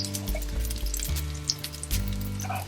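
Ghee sizzles steadily on a thick Sindhi koki flatbread made from wheat flour with a little besan, frying in a pan, a close continuous crackle with small pops and a low hum underneath.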